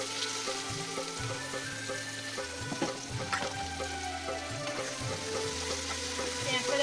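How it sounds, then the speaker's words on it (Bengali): Chopped onions hit hot oil in a kadai and fry with a loud, continuous crackling sizzle, bright and close, with scattered sharper pops and some stirring. "কড়াইতে দিয়ে দিলাম আমি পরিমাণ মতো তেল। এখন দিয়ে দিব কেটে রাখা পেঁয়াজগুলো।"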